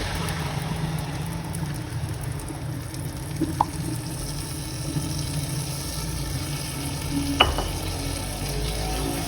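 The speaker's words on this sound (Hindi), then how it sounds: "ये जो मैंने दही में मसाला मिक्स किया था वो मैं इसमें ऐड कर रही हूँ।" Onions fried brown, with yogurt mixed with masala added for a beef pulao, give a steady close sizzle with stirring and a couple of faint clinks, under a low constant background hum.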